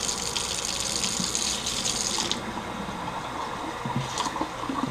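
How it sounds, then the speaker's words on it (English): Cold tap water runs loudly and steadily into a pot of boiled eggs sitting in a kitchen sink, a close, continuous gushing splash with no talking. "we're going to run the eggs under cold water for about a minute"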